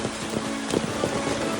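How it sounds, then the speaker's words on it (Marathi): Heavy rain pours during a Ganpati immersion outing, a loud, dense, continuous roar with a few faint knocks and thumps beneath it and no speech. "बारिश देखो"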